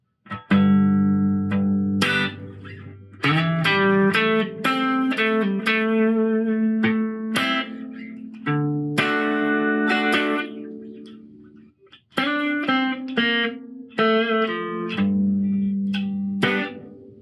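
Electric guitar through an Oceans 11 reverb pedal set to hall and plate tones, clean picked notes and chords with reverb tails ringing out between phrases.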